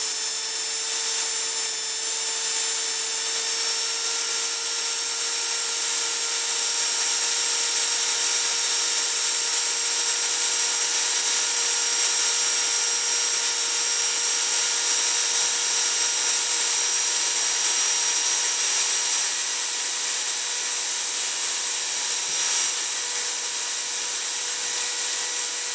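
A Dremel rotary tool held at its top speed of about 35,000 RPM after a motor brush replacement, giving a loud, steady high-pitched whine with a constant tone that runs unbroken throughout.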